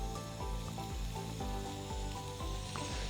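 Wagyu beef burgers fry in a pan over embers with a continuous, moderately quiet sizzle, accompanied by a repeating low rhythmic pattern underneath.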